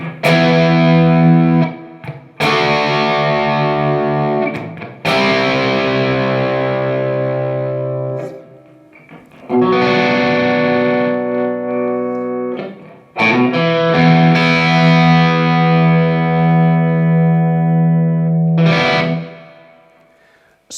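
Karl Longbottom Fulvia electric guitar on the bridge pickup with heavy distortion, playing loud sustained chords in about six bursts separated by short gaps, with the last one fading out.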